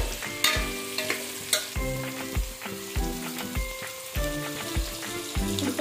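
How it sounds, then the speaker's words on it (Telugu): Carrots and capsicum frying on a medium flame for soya chunk biryani: a steady close sizzle with repeated scraping stirs in a rhythmic pattern throughout, and no talking. "ఇప్పుడు క్యారెట్ వేసుకుంటున్నాం, తర్వాత క్యాప్సికం కూడా వేసుకోవాలి. ఇవన్నీ కూడా మీడియం ఫ్లేమ్లో వేయించుకోవాలండి."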